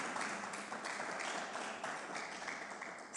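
Audience applause for a poetry performer at an International Women's Day poetry, music and debate event: a faint, steady wash of many hands clapping at some distance, continuous for about three seconds.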